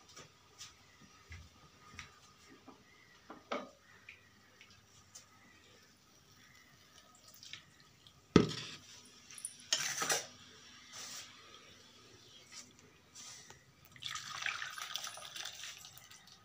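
Cooked drumstick leaves and moong dal soup strained through a sieve, with soft intermittent pouring and splashing of liquid, a louder gush near the middle and a longer trickling spell toward the end, recorded close by.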